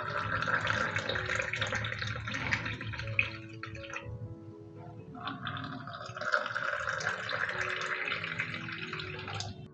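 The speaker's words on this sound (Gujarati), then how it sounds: "ઠંડુ પાણી નાખશું." Cold water is poured into raw mango and mint sherbet syrup in a glass, a close, splashing trickle that pauses briefly midway and then resumes.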